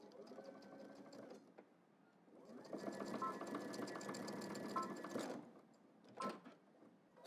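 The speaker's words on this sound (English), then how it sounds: "now let's head to the machine. We're gonna stitch across here" Sewing machine stitching across a 1.5-inch hem allowance on a garment's back vent, a close, steady rapid whirring in two bursts separated by a short pause, ending with a few clicks.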